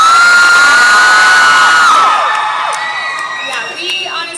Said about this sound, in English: the screams are just insane